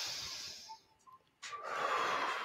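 A person breathes deeply and quietly close to the microphone: a hissing exhale, a brief pause with faint small sounds, then a long airy inhale.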